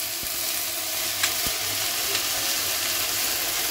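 Ginger paste frying in oil with dried chilli and mustard seeds before jute greens go in, a loud continuous sizzle throughout with a few sharp scrapes and clicks of stirring, no voices.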